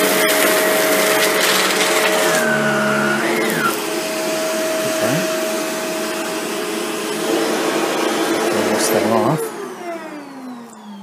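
A Shark Rotator NV752 vacuum cleaner runs on a low pile carpet setting, giving a loud, steady whine with a droning motor hum that holds for about nine seconds before easing down slightly.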